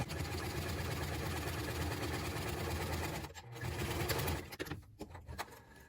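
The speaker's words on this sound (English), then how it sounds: "then just sew across on all 4 of the corners" A sewing machine stitching across the corners of a fabric trinket dish, with a fast steady motor whir for about three seconds, then a short burst and stop-start stitching.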